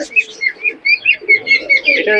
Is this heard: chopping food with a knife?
no